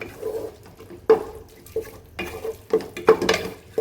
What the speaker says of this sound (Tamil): அரை லெமனை வந்து பிழிஞ்சு விட்டுலாம் இதையும் நல்லா மிக்ஸ் பண்ணி விட்டுலாம்